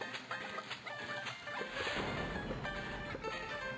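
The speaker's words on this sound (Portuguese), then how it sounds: "Porque é muita galinha, muita coisa rápida" Chickens cluck repeatedly in the Plants vs. Zombies 2 game, mixed into busy game music and effects, fairly steady and moderately loud throughout.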